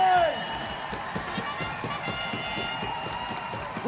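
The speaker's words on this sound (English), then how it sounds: "Stomp on your feet, and we're going to have a lot of fun." A large crowd of students at a robotics competition arena stomps their feet in a rapid, rumbling patter, with loud crowd noise and a voice over an echoing public address system.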